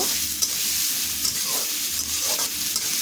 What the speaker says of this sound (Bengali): পেঁয়াজটা একটু নেড়ে ছেড়ে নেব খুব একদম গোল্ডেন ব্রাউন করব না একটু হালকা করেই ভেজে নেব